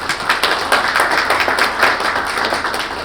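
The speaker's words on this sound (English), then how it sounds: "So a round of applause for our staff." Meeting attendees at a combined board and committees session applaud the staff, a steady close-range patter of clapping hands from a small group, continuous for a few seconds with no talk over it.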